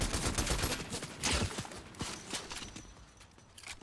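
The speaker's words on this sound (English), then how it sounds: "They're shooting down the walls." Gunfire in Fortnite Battle Royale as players shoot down building walls, a rattling volley of close shots and impacts that gradually thins out toward the end.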